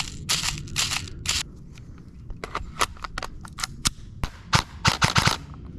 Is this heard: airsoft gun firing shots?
yes